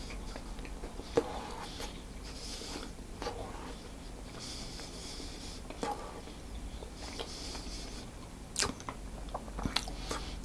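A slice of moist banana hazelnut loaf cake is eaten close up, with soft bites and quiet, squishy chewing, plus faint crumbly crunches and scattered small clicks over a low hum.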